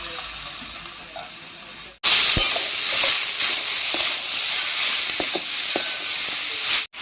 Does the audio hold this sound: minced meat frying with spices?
yes